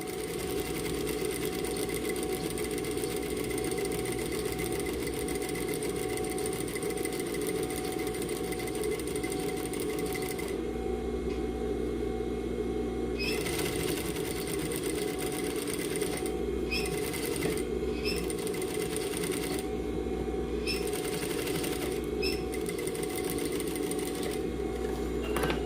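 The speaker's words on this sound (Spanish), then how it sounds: "Vamos a hacer una costura nada más por todo el contorno a medio centímetro aproximadamente. Vamos a estar utilizando una puntada larga." Sewing machine runs steadily, stitching a long basting seam around the edge of fabric bucket-hat pieces; a continuous close hum with brief stops and restarts near the end, no talking.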